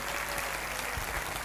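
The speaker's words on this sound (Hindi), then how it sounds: "एक बार उनके लिए ज़ोरदार तालियां हो सकती है" Loud applause from an audience at a 50th birthday event, a dense, even wash of clapping filling the whole moment without voices.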